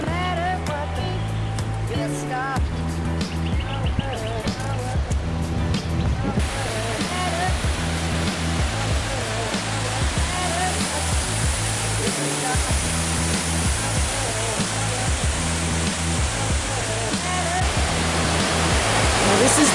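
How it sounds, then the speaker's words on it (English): Bell Gorge waterfall, reached on foot along the bottom of the gorge, pours with a steady broadband rush that swells louder partway through and holds, with talking and other sounds layered over it. "This is the Bell Gorge waterfall."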